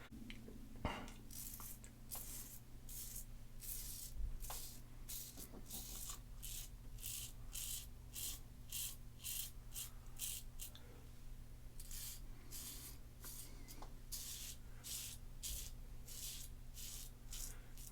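A razor blade drawn across the grain of facial hair, making a steady close scraping rasp in repeated short strokes over a constant low hum, with no talking.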